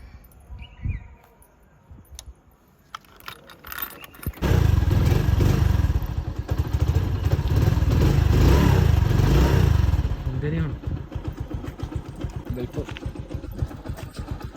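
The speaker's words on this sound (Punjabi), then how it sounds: "ਮੋਟਰਸਾਈਕਲ ਕੱਢ ਲਿਆ ਬਾਹਰ" A motorcycle wheeled out outdoors starts and runs, its engine rumbling loudly up close for several seconds before settling to a lower, uneven idle, with people talking over it.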